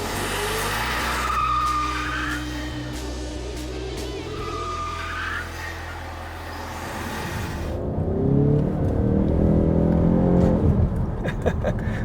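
Ford Mustang 2.3 EcoBoost four-cylinder drifting, tires squealing in long rising and falling wails over a steady engine drone, then a louder rough burst of engine and tire noise near the end, fairly close with no talking.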